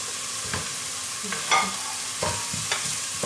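Bell pepper sizzles loudly in a hot pan of frying onion, a steady hiss with a spoon scraping and stirring through it in several soft strokes.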